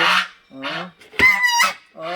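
A goose honks loudly and close by in a series of four or five harsh, nasal calls with short gaps between them, with no talk over them.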